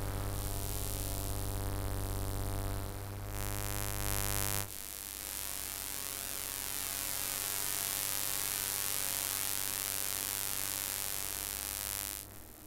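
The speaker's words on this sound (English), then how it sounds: "you can hear some phase type sounding things. That's the pulse width modulation." Pulse width modulation noise from a motor and LED, picked up by an EM coil, comes through as a steady electrical buzz and hum with layered tones that shift partway through before fading at the end.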